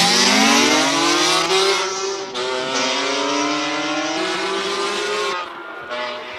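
Porsche race car on a hill climb run, a loud, close engine roaring at high revs with repeated upshift breaks and rising pitch, easing slightly toward the end.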